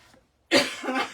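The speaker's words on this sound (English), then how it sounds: "Just excuse me for a minute, I'm going to have a cough." A single close, loud cough after a brief silence, with a quick harsh burst followed by a short second expulsion, heard alone in a quiet indoor room.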